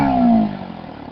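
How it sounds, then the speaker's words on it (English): A Bajaj NS200 motorcycle with its stock exhaust gives a short loud rev that falls away, the engine tone dropping as it settles, with a faint crackle as flames shoot from the pipe. "It's the stock exhaust, and here you can see fire emitting through it."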